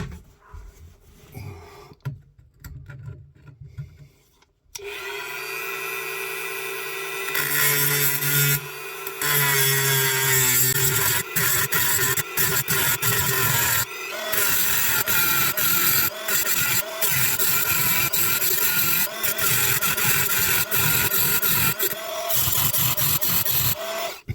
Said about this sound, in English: We're going to have to cut the stupid, what do you call it, nut in 2 places so it'll completely come out.